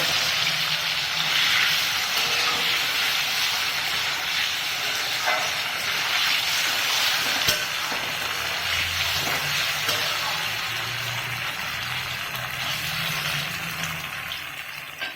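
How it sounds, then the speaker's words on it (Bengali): Paneer and potato curry stirred slowly in a pan gives a steady close sizzling hiss with faint scraping throughout and no voices. "এবার ধীরে ধীরে আস্তে আস্তে নাড়বো"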